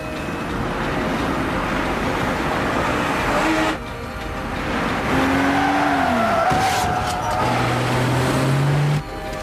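Police cars tearing away at speed, loud engine roar with tires skidding and squealing in rising and falling screeches, cut by abrupt gaps and ending in a sustained squeal.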